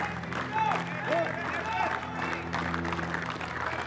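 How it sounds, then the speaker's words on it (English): Applause ripples from a cricket crowd and teammates for West Indies batsman Evin Lewis reaching an ODI century, moderate clapping under commentary and crowd murmur. "Receives the applause from his teammates."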